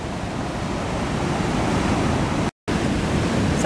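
The Chutes du Calvaire waterfall roars close by, a steady broadband rush that fills the whole scene, with a brief dropout partway through.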